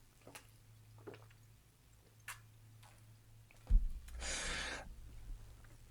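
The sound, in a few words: drinking a little water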